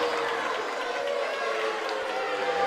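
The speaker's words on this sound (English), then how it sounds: "I feel like both sides are booing right now" A basketball crowd boos steadily in a gym during a high school game between Dadeville and Tallassee, a sustained mass of voices filling the room throughout.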